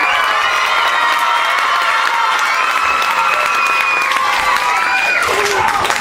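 Audience in a school event cheers and applauds a chicken dancer, a dense, steady wash of clapping, whoops and children's shouts filling the whole stretch at close range.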